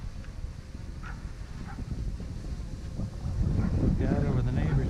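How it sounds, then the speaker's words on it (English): Steady wind rushes and buffets around a DJI Mavic drone flying over a neighborhood, a broad continuous roar that grows louder in the last second or two, with faint voices now and then. "It's getting pretty breezy, but this thing is staying steady as can be."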